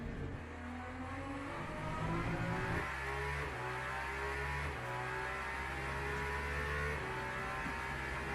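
An Aston Martin hypercar in the Le Mans Ultimate racing game, its engine revving hard and steadily with stepped pitch changes through gear shifts, loud and close with no talking.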